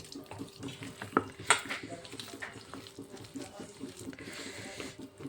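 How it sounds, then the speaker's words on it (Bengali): Water pours into batter for a banana flower (mocha) chop in a Bengali home kitchen, a soft trickle and splash with a few bright clinks, fairly quiet against low background murmur. "আর একটু জল দিচ্ছি"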